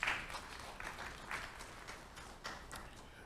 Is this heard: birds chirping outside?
no